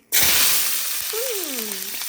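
Potato, onion and garlic hitting hot oil for a chickpea stir-fry: a sudden loud sizzle erupts and then settles into a continuous close hiss, with a brief tonal whine partway through.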